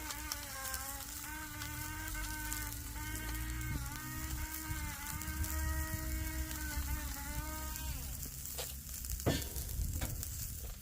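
Vegetables seasoned with salt and pepper are stirred and mixed on a blazing hot griddle, giving a steady close sizzle under a thin high whine, with a few sharp scrapes near the end.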